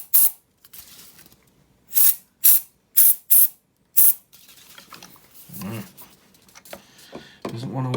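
Spray is shot into the volume pot of a Fender Stratocaster guitar in about six short, sharp hissing bursts, close and evenly spaced, followed by quieter handling noises.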